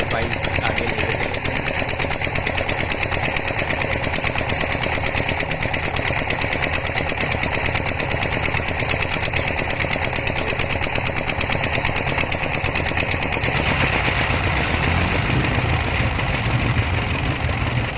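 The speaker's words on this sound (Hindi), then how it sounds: "सारे लोगों ने अपनी स्टार्ट कर दी है, जैसे ही लगेगा तो बाइक आगे लेके चलेंगे।" Several motorbike engines idle together at a border crossing, a loud, steady, rapid chugging that runs unbroken throughout, with voices talking underneath.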